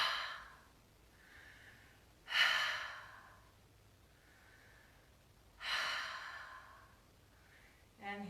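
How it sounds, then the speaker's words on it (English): Three slow, breathy exhales during a guided breathing exercise, each a soft rushing sigh that swells and fades, spaced a few seconds apart with quiet breathing between; a faint voice begins speaking at the very end. "3 audible exhales."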